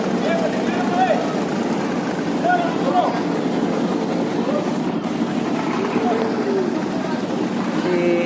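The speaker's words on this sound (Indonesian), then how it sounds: "Ini perahu-perahu kecil masih lewat di sela-sela kapal yang" Small motorboats drone in the distance beneath people talking, passing between ships near a shipyard, a steady low engine hum running throughout.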